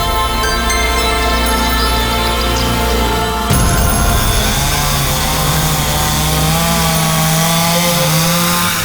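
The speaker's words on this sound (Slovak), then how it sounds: "Zariadenie, ktoré rozpozná zvuk motorovej píly a upozorní ochranárov na výrub vzácnych lesov." Chainsaw cutting through wood in a forest, a loud continuous motor drone that shifts pitch midway as the saw bites into the timber, with no voices.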